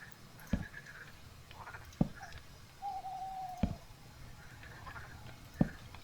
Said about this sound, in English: I love the extra little ambient sounds with the birds. It's like a meadowlark that I keep hearing.